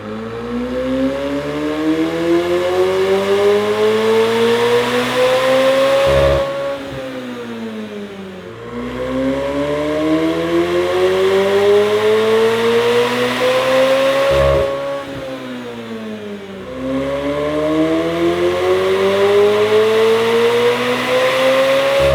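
A McLaren 765LT engine revs repeatedly on a dyno, each long pull rising steadily in pitch to a loud, near howl before dropping off, three sweeps in a row.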